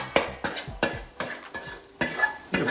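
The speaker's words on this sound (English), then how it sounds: "You can spread it around the bottom of the wok to keep developing that crispiness" Minced meat for mapo tofu is stir-fried in a wok, with about six rhythmic scraping strokes of the spatula over a soft, steady sizzle, close and fairly quiet.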